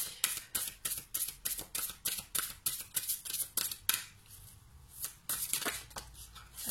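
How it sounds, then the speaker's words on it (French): Oracle cards shuffled for a reading, a rapid series of crisp riffling bursts and soft slaps repeating about twice a second, close and fairly quiet, with a short pause before the shuffling resumes. "On va tirer une ou deux cartes."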